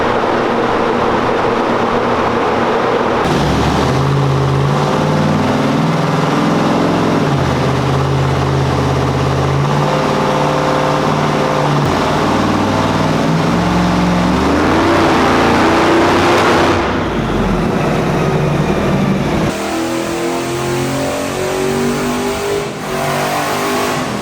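A cheap car's engine running on a 93 octane tune revs hard and loud right up close, the throaty roar rising and falling through several pulls and then settling into a rough, rowdy idle near the end.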